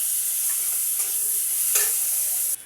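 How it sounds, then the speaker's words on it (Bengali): Cauliflower frying in a pan gives a loud, steady hiss of hot oil, with a couple of brief soft stirring scrapes before the sizzle cuts off abruptly near the end. "এবার বাকি কপিটা আমি এরকম ভেজে নেব।"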